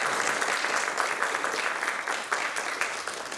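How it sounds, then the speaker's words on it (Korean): A church congregation applauds in encouragement of visiting missionary families, a full, continuous patter of many hands that swells slightly in places and stays unbroken for the whole stretch. "우리가 지금 격려의 박수를 좀 보내드립니다."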